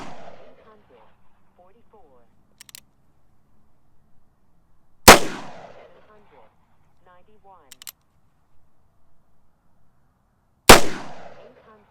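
A Colt Single Action Army revolver in .45 Colt fires into a sand pile outdoors. Two loud, sharp reports stand about six seconds apart, each with a brief ringing tail, between stretches of quiet talk and small clicks.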